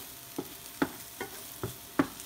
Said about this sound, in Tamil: இங்கே பார்த்தீங்கன்னா வந்து வெங்காயம் நல்லா வதக்கிட்டு இருக்கேன் நான்.